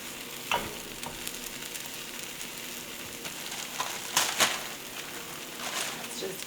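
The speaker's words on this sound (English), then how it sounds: "I want to get these eggs mostly cooked up before I add the cheese and the ham" Eggs fry in a pan with a soft continuous sizzle, occasional scraping stirs and a few louder crackles, heard close at a low level.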